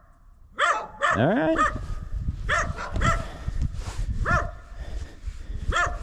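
Dogs near a cemetery bark in a loose series of sharp, close, loud barks with short gaps between them, and a person briefly speaks among them.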